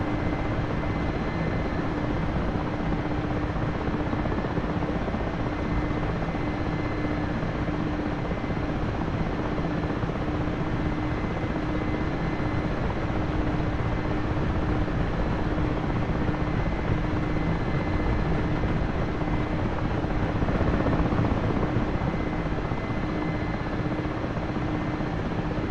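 A helicopter lifts off in a flight simulator game, its rotor and turbine drone steady and loud throughout, a continuous mechanical roar with no voices.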